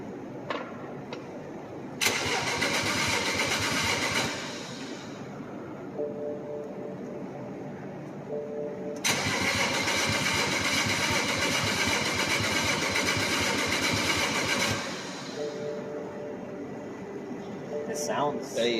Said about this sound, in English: I told Tristan I deserve the honors of starting the car.